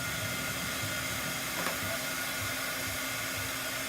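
A heat tool blows a steady, loud whoosh of hot air while drying a Chalk Couture homespun gift tag, with a constant hum running unbroken for several seconds.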